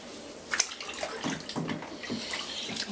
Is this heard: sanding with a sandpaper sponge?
no